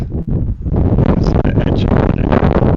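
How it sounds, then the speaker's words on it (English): Outdoors and high up during a live whisky tasting, wind buffets the microphone in a loud, continuous roaring rumble. A voice may be faintly present beneath it. "It's getting windy up here."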